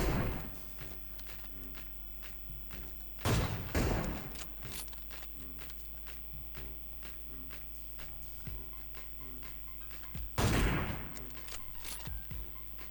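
Gunfire in the mobile battle royale game PUBG Mobile, with rapid, evenly spaced shots over a constant low hum and two louder, denser bursts of firing.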